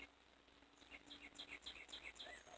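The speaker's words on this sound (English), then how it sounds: "There he goes. He chirps all night long." A bird chirps outside at night, heard faintly through an open window as a series of short, high, repeated chirps over a steady background hiss of insects or crickets, with no talking.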